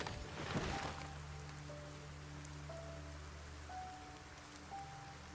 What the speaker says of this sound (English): It is very rainy out here.